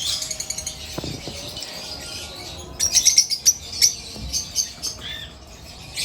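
Pale fallow lovebirds, a green male and a blue female, chirping in a cage: sharp high tweets in scattered bursts, a few early chirps and a denser cluster of squawky calls later, fairly close and alone.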